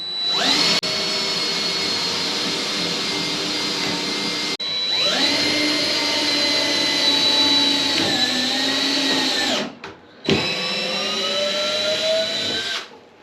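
Battery power tool cutting threads in aluminium aboard a boat, run dry without cutting fluid: a loud continuous high whine in long sustained bursts with short pauses, the pitch dropping slightly under load.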